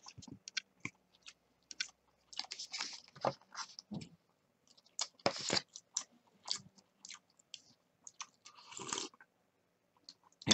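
Fatty grilled mackerel being chewed at lunch, close up, with wet bursts of crunching and smacking bites separated by quiet pauses.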